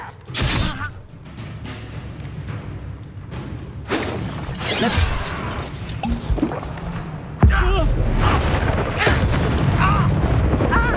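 Confringo fire spell blasts in the Hogwarts Legacy video game, several booming explosive bursts amid duel combat effects and a character shouting spell names over game music.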